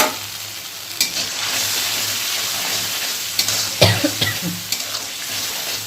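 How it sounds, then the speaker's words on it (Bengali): A spice mixture with salt, turmeric and chopped tomato fries in a pan for a vegetarian taro-stem curry. A steady hiss runs under spatula strokes that turn into a cluster of sharp scrapes and knocks in the second half. "চলো মশলাটাকে ভালো করে একটু কষিয়ে নিয়ে আসি।"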